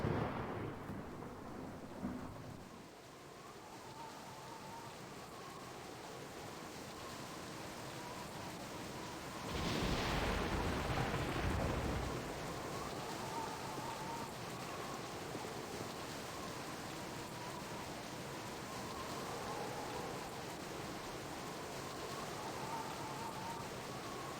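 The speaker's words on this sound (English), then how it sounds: "Ominous thunderstorm" In a Baldur's Gate cutscene, rain hisses steadily throughout a thunderstorm, and a loud rolling thunderclap rumbles in the middle and slowly fades back into the downpour.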